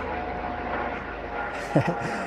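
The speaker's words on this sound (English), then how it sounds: "Lovely police helicopter there." A police helicopter flies overhead above the River Tyne, its engine drone steady and moderately loud, with a brief voice breaking in near the end.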